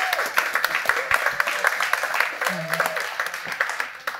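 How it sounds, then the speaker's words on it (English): Applause from a summit audience thanking fellows, a steady patter of clapping with some voices and chatter mixed in throughout. "Let's just give one more really big round of applause for all of you,"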